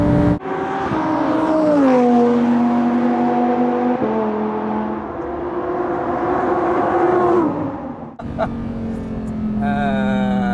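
A high-revving naturally aspirated Lamborghini Huracán EVO engine roars loudly and continuously on a track straight, its pitch climbing through the gears with brief drops at each shift.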